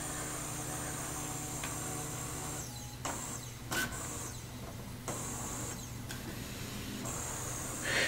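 A Brother MFC-J825DW inkjet printer runs after start is pressed, giving a steady mechanical hum with faint whirring and several short clicks and shuttle movements, quiet and close with no talk.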